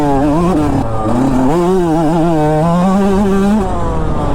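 A close, loud dirt bike engine revs hard, its pitch climbing and wavering in sustained bursts with no talking.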